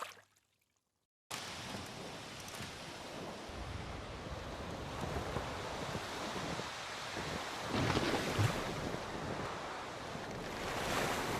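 Boat crossing a lake in The Witcher 3, with a steady wash of water and lapping waves that swells a little midway and again near the end, after a brief silent opening.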